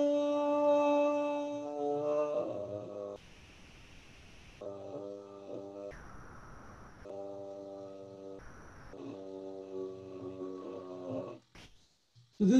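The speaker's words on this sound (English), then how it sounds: "so this is the sound of my voice when I'm using absolutely minimum air." A voice slides down into vocal fry using minimal air, with low creaky pulses under sustained tones broken by breathy gaps.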